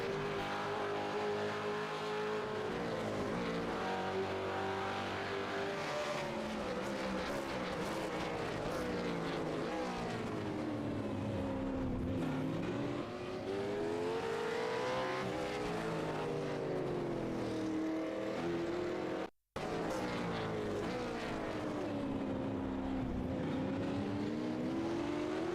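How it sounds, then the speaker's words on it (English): GT race cars lapping a circuit with a Holden leading, engines roaring and shifting pitch continuously as cars pass at a distance, loud sustained motor noise for most of half a minute. "But Lucchesi on that lead lap in the Holden leading this race"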